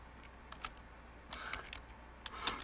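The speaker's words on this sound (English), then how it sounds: "that's actually typing that in there for the topic as an experiment" Computer keyboard typing, a few scattered soft key clicks followed by short bursts of quicker keystrokes, quiet and close with no talk.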